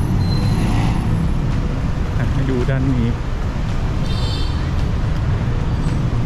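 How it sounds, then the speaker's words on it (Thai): Dense roadway noise of heavy traffic on Sukhumvit Road in Bangkok, with buses and trucks rumbling close by and a brief air-brake hiss, while someone talks over it. "รถติดมาก"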